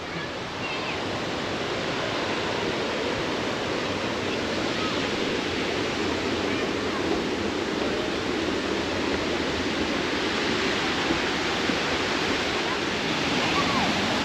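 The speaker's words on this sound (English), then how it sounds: "Now you can really hear it roar. Listen to that water." A roaring waterfall near Lake Michigan, a dense, steady rush of falling water heard up close, loud and unbroken throughout with no pauses.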